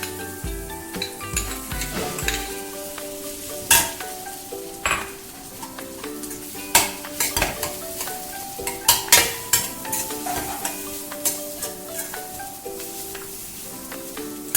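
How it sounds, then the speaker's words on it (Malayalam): Boiled, mashed potato sizzles as it is sautéed over a medium flame and stirred in a pan, as the filling for a spicy stuffed semolina cake. Scraping utensil strokes and occasional clinks sound irregularly over a soft, continuous fry. "മീഡിയം ഫ്ലെയിമിൽ വച്ചിട്ട് നന്നായിട്ട് വഴറ്റി കൊടുക്കണം."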